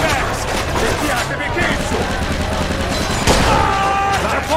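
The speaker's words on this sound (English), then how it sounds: "All right, Scaletta, take the shot" In the PC game Mafia 2, a firefight fills the scene with sustained, loud bursts of gunfire and machine-gun fire over a dense battle din, with shouted voices mixed in.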